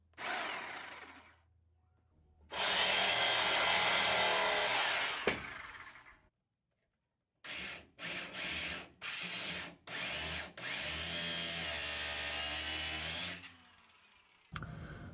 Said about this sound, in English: so I had to bust out the grinder